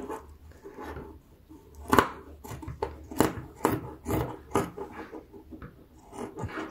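Scissors snip through clothing fabric being cut up for upcycling into a shoulder bag, making a series of close, crisp cuts at irregular intervals, fairly quiet, with nobody talking.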